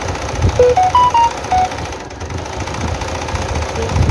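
A sewing machine stitching palazzo pants, its rapid mechanical chatter running steadily for several seconds with a few brief high tones near the start.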